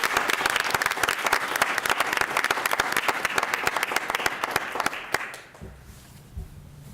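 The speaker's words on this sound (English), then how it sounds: "round of applause for Mrs. McKenna" Applause from the attendees of a school committee meeting, a dense steady clatter of many hands lasting about five seconds before cutting off abruptly into quiet room noise.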